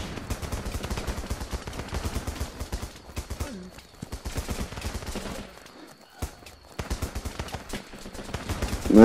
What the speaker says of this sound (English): This is the heavy machine gun, which has infinite ammo